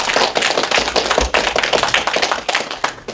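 A seminar audience at a Korean commemorative academic conference applauds, with dense, steady clapping from many hands throughout, loud and fairly close, with no voices over it.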